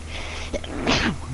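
A single sharp human sneeze, close and fairly loud, with a brief intake before the burst, over a quiet steady background hum.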